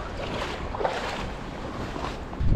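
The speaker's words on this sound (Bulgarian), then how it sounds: "Излезе адския студен вятър, надуха ни зверската." A cold wind gusts hard over a river during trout fishing, a steady, close rushing roar with slight swells and no voices.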